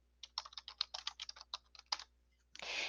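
Quick bursts of typing on a computer keyboard as a quiz title is entered, about a dozen close, crisp keystrokes in a fast irregular rhythm, then a brief noisy swell at the end.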